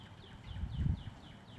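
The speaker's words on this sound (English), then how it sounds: "Can you guys hear the birds?" Faint, repeated bird chirps, a little distant, over a low rumbling outdoor background near a creek that swells briefly in the middle.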